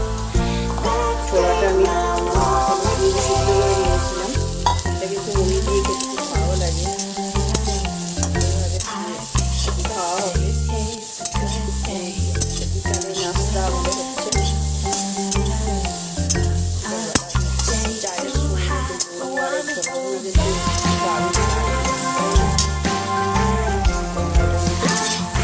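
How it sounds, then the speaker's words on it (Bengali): Chickpeas dry-frying with chopped onion and green chili in a pan, a steady sizzle with stirring scrapes running beneath loud, rhythmic background music for the whole stretch. "একটু ছোলা ভুনা হচ্ছে পেঁয়াজ একটু কাঁচা লঙ্কা দিয়ে"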